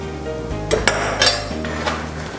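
Fried stuffed bread slices scooped out of a frying pan into a serving dish, with several close metallic clinks and scrapes of a utensil against the pan over a faint low kitchen hum.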